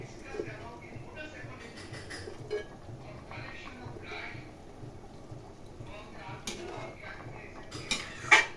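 Fried rohu fish pieces going into a boiling fish curry in a pan, faint clinks of a utensil against the pan and soft bubbling under someone talking.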